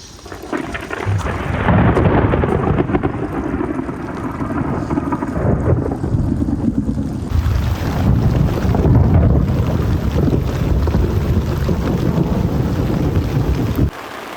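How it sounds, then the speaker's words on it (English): Thunder rumbles low and heavy through a downpour at a carp fishing lake in France, with rain hissing and wind buffeting the microphone throughout. "you can hear that thunder behind me like."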